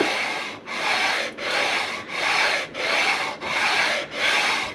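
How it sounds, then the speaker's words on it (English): Steady back-and-forth sanding strokes on a wooden guitar neck being prepared for fretting, seven even rasping passes with brief pauses between, close and fairly loud with no talking. "I'm not going to be filming all the sanding."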